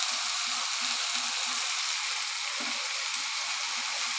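Turmeric and ground cumin fry in hot oil in a pan for a bottle gourd curry, giving a steady, close sizzle with faint occasional stirring scrapes and no voices.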